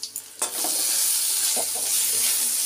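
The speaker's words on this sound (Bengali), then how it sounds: "এখন ভাজাভুজি চলছে" Food sizzles steadily as it fries in a hot pan, with a few sharp clatters at the start before a continuous bright hiss takes over, close and fairly loud.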